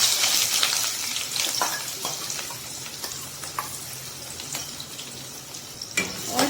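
Sliced onions dropped into hot oil fry with a steady, bright sizzling hiss, punctuated by occasional stirring clicks and spatters, close and fairly loud with no talking.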